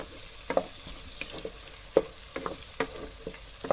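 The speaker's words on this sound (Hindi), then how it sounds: "थोड़ा टाइम के लिए भूनेंगे, थोड़ा इसका भुनाई करेंगे और ज़बरदस्त मसाला बनेगा" Masala for masoor dal sizzles and fries in a pan, with soft scrapes and taps of a spoon stirring at an uneven rhythm, close and fairly quiet.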